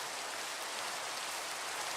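Rain falls in Minecraft, a steady, dense hiss of rainfall that holds evenly and fairly loud throughout, with no voices.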